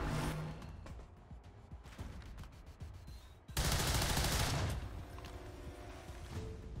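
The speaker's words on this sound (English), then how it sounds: "We cannot survive this barrage much longer" Gunfire barrage in XCOM 2: rapid sharp shots crack in quick succession, then a loud sustained blast of fire erupts for about a second before tapering into scattered trailing shots.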